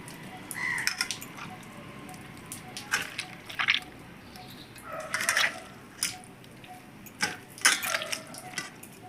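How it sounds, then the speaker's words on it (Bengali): Soaked soybean chunks squeezed by hand release water in quiet, irregular wet squelches and drips, several short bursts spread across a hushed room. "এখন আমি জল চিপে চিপে সয়াবিনটাকে পেস্ট করে নেব।"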